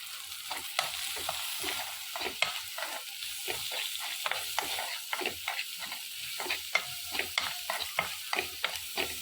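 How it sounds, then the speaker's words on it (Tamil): Fish pieces and large-cut onion sautéing with chili powder and salt in a pan for fish manchurian, a steady bright sizzle with repeated scraping stirs at an even rhythm, close and alone without talk. "நல்லா வதக்கிட்டு வெங்காயம் கொஞ்சம் பெருசு பெருசாக கட் பண்ணியிருக்கோம் இல்லையா அதையும் இது கூட போட்டுடலாம்"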